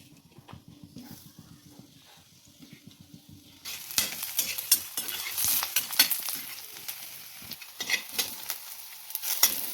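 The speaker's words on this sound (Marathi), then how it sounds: "गॅसवर आपण कढई तापत ठेवून त्यात सर्वप्रथम कांदा भाजून घेऊया" Onion roasting in a hot kadhai over a gas flame, a steady sizzle with stirring scrapes that swells louder after a quieter start, close and continuous with no talk.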